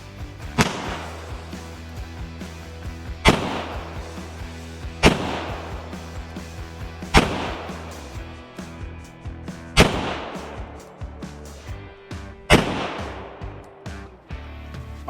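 Gunshots from 180-grain jacketed flat-nose hollow point rounds fired at a cast iron Peerless 2300 transmission, six loud sharp reports spaced a couple of seconds apart outdoors, each with a ringing decay.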